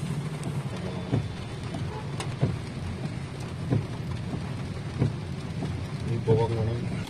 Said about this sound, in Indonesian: Hujan terus teman-teman seharian